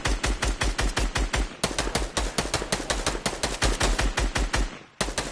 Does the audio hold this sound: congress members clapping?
no